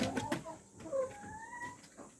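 Rhode Island dark mahogany breeder hens about six months old, soft clucks and short calls from a few birds close by, faint and intermittent over quiet farm background.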